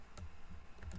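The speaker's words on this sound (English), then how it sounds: "I'm typing this out for you" Typing on a computer keyboard, a few quiet scattered key clicks in a short burst, faint and close, with no talking.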